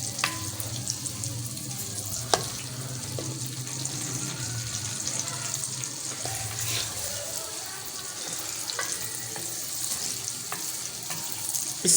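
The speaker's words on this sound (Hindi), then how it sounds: "इस प्याज को मैं करूंगी ब्राउन। चम्मच हिलाती रहूंगी इसमें।" Large sliced onions fry in hot oil while a spoon keeps stirring them, giving a steady close sizzle with occasional scrapes and clinks, with no talking.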